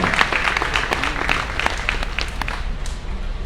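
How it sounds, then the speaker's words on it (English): A crowd at a livestock show goat drive claps steadily with sharp individual hand claps standing out, sustained applause that carries on throughout. "Let's give a big round of applause for all of our exhibitors today"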